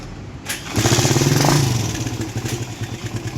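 A motorcycle with a loud exhaust starts up in a repair shop, catching with a burst, then revving to a steady throbbing roar before settling into a lumpy, pulsing idle, close and with no talk over it.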